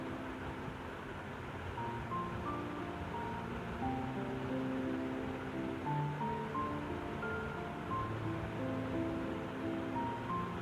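A cutlet mixture of spiced potato and soya chunks sizzling in hot oil in a pan, a steady dense frying crackle and hiss with scattered pops running continuously.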